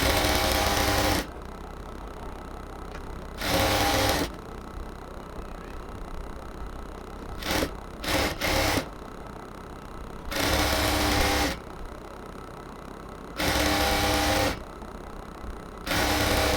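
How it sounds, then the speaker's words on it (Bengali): A sewing machine stitches folded salwar pant fabric in repeated bursts of about a second each, with a quick flurry of short stitches in the middle, close and clear between quiet pauses. "এরপরে একদম উপর থেকে দোনোটা কাপড়কেই আমরা ভাঁজ করে আস্তে আস্তে সেলাই করে আসবো ফোল্ডিং করে।"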